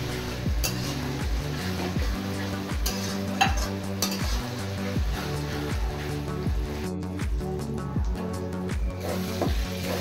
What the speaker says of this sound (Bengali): এবার এই মশলাটা সহ পেঁয়াজ আর একটু ফ্রাই করে নেব